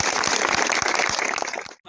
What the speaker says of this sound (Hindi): जोरदार पहले तालियों के साथ स्वागत है।